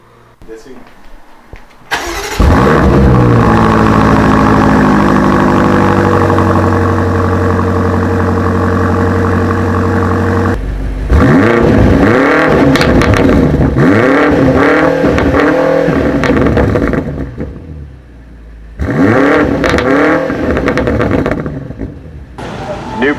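A 2019 BMW M8 with a 4.4-litre twin-turbo V8 fires up and idles with a deep, close exhaust rumble, then revs hard in repeated rising bursts separated by brief drops, with a voice talking over parts of it.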